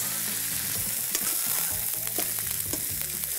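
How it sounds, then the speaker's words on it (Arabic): Tomato juice frying and browning in a hot pan during a braise, giving a steady close sizzle with faint crackles and stirring scrapes throughout, no talking. "وهخلي عصير الطماطم ده ياخد شويه لون صغيرين يعني ايه يعني يتحروق شويه"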